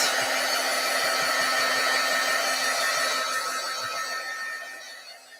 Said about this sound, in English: now I'm going to use my heat tool and I'm going to dry this a little bit